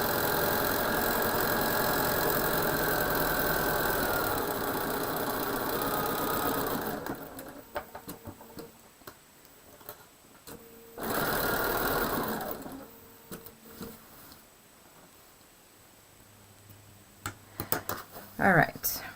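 A sewing machine stitches a Hunter's Star quilt block, whirring steadily up close, stopping, then running again in a shorter burst, with someone talking through the pauses.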